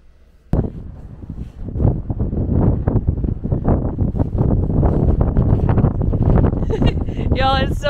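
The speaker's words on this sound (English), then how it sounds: "Y'all, it's so windy out here." Strong wind buffets the microphone outdoors in Tierra del Fuego, Argentina, a loud, continuous gusty roar after a sudden onset, with faint higher sounds near the end.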